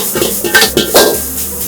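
Egg and rice are stirred in a Chinese wok while making firefly squid and rapeseed blossom fried rice, with quick metallic scrapes and clanks of the utensil against the pan over a soft sizzle.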